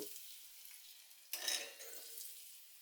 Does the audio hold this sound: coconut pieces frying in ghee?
yes